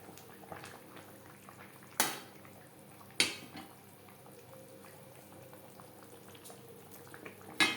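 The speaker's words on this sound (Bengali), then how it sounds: "গ্রেভির সাথে মাছ বেশ ভালো করে মিক্সড করে দেব" Fried hilsa fish is folded into a simmering eggplant gravy in a pot, with a faint bubbling hiss and a few sharp metal knocks of the spoon against the rim.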